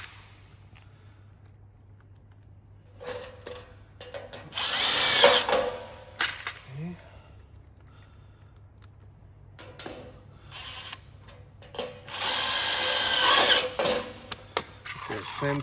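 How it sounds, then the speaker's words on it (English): A power drill whirs in two bursts of several seconds each, driving self-tapping screws during greenhouse assembly, with quieter handling noises and a voice in between. "the screws are self-tapping screws. They're self-tappers, so that's why you need a power tool"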